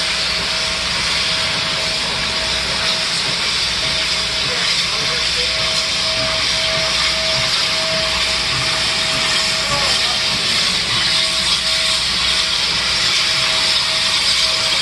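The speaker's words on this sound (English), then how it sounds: "we came back to Strasburg to see 611 pull into the station with the returning 2 o'clock train in tow" N&W 611, a steam locomotive, pulls into Strasburg station with the returning 2 o'clock train, giving a steady loud hiss of steam and a low rumble, with a faint sustained whistle-like tone running through most of it.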